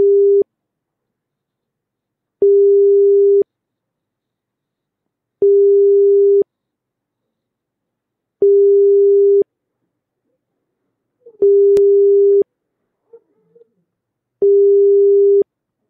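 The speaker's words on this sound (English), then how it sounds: "400 hertz, and this is modulated with the lower frequency 25 hertz. And here the on time is 1 second and off time is 2 second." Telephone signalling tone at 400 Hz modulated by 25 Hz, sounding as steady one-second beeps separated by two-second silences, repeated six times, clear and alone with small clicks in between.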